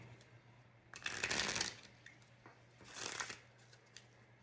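A deck of playing cards is riffle shuffled twice at a card table for spades, each pass a fast, crisp, fluttering burst of riffling about a second long, heard close and alone with faint taps between.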